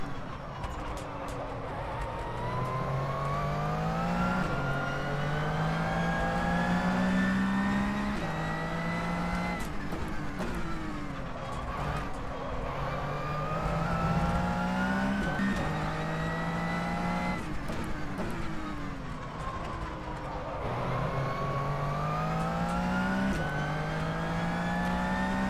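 An Aston Martin race car engine in the rFactor 2 racing game roars and revs through repeated gear shifts, rising and dropping in pitch over a long stretch of driving at Sebring at night.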